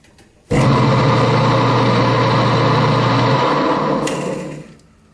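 An electric motor with a pulley in a meat shop starts abruptly and runs with a loud, steady hum, then spins down and fades near the end.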